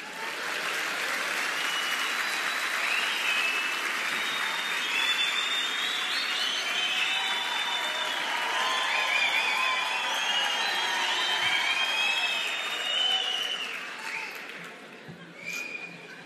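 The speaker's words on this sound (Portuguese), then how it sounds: "Estava difícil de você aplaudir" A lecture audience applauds in a sustained, dense burst of clapping with some cheering mixed in, steady and full for most of the stretch before tapering off near the end.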